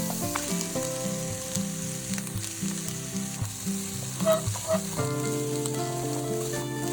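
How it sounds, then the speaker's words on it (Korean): Cabbage and vegetables sizzle and crackle steadily in a hot pan with scrambled egg and garlic, with scraping and clinking of a utensil stirring throughout. "달걀이 다 익으면 야채를 넣고 볶아주세요."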